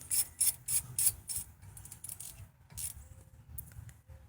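A ratchet snugs up a 13mm bolt on the brake of a 2012 Chevy Traverse during a rotor change, giving a close series of quick clicking bursts with short pauses between strokes.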